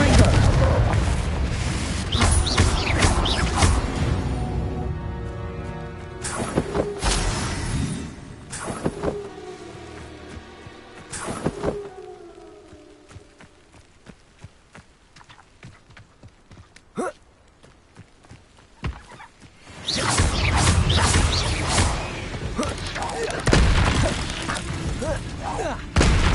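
Confringo fire spells blasting in the Hogwarts Legacy video game: loud, heavy booms burst repeatedly at the start and again near the end, separated by a quieter stretch holding scattered thuds and game effects.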